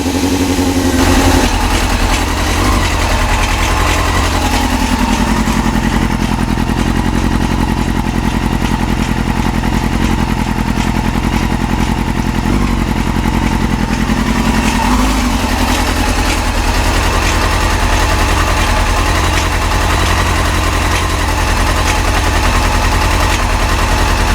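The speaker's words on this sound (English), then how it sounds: "I'm gonna let this warm up and let you guys hear the idle." A Yamaha YZF-R6 sport bike idles while warming up, partially choked and fitted with new coils, its uneven idle speed jumping at random; the exhaust is loud, close and continuous, with a rapid, popping pulse throughout.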